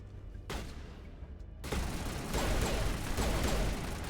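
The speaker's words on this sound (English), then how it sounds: "Oh god, he has turrets." Turret gunfire from the video game Mass Effect starts as a brief burst, then swells into a loud, continuous stream of rapid shots that keeps going to the end.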